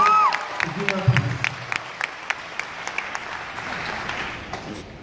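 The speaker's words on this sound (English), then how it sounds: "Give her a round of applause, ladies and gentlemen." Audience applause for a performer at an Indigenous Heritage Month event, a short burst of clapping that thins into scattered claps, with a voice briefly audible at the start.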